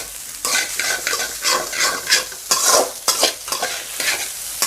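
Egg pepper rice being stirred and fried in a pan, with steady sizzling and repeated loud scraping strokes of a spoon through the rice, close up and with no talk.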